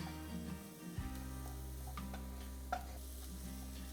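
Garlic and oregano cook with onions in a pan, a soft continuous sizzle under low hum, broken by a few light scrapes and clicks of stirring, close and fairly quiet, with no talking.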